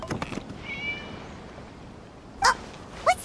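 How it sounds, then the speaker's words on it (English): Cat meowing in the game Genshin Impact, two short close meows near the end after faint ambient sounds, with no talk over it. "It was just a cat."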